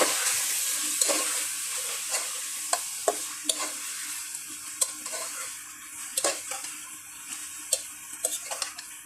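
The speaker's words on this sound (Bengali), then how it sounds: "ভালো করে নেড়ে ছেড়ে নিলাম।" Meat pieces frying in cooked-down spices for haleem, stirred in a pot with a steady bright sizzle and sharp, irregular spoon clicks and scrapes against the pot, close up with no talking.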